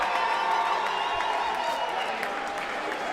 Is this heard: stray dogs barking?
no